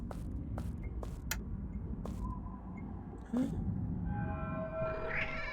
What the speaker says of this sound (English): Oh, kitty cat. Just a friendly little kitty cat.